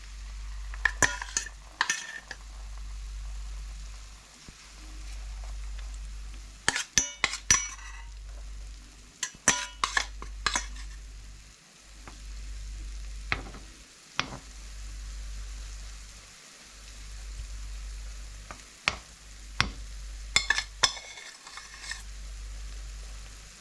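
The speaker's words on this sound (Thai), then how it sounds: "ทอดหอยเข้าก่อน ทำเหมือนทอดมันนะจ้ะ" Shellfish frying in hot oil for tempura: a soft sizzle under a low hum that swells and fades in regular pulses, broken by sharp clattering clicks of stirring and scraping utensils.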